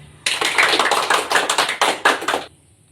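A classroom group in a counselling session claps together in a dense, close burst of applause that lasts about two seconds and then stops abruptly.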